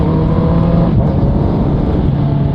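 Loud, close revving of a Honda CB650R motorcycle with an Akrapovic full-system exhaust, silencer removed, giving a deep rumbling exhaust note that dips briefly and then holds steady.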